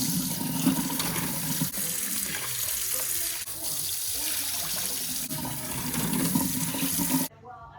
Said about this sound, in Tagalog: Banlawan lang natin yung ating rice.